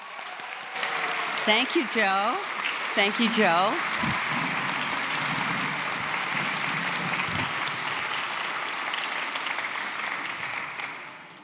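An audience at a children's book event gives a big, sustained round of applause for an author, steady crowd clapping throughout; early on someone speaks briefly over the clapping, which then carries on alone and fades at the end.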